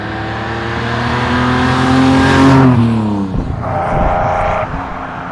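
A 1966 Ferrari 330 GTC with a 300 PS V12 on the move, its engine tone rising under acceleration, then dropping with a gear change before pulling again, loud and close with no voices.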